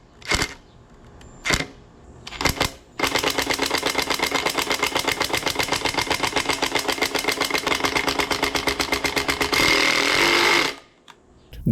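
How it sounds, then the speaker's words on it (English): A cordless impact driver sinks a fastener, starting with a few short spins and then breaking into a long, steady hammering rattle lasting several seconds before it stops abruptly. "the impact driver spins, but it senses resistance"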